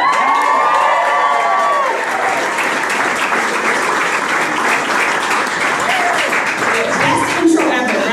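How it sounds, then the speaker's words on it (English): Loud crowd cheering and clapping, shrill whoops and shouts riding over dense applause that continues throughout, close and energetic. "Round of applause again."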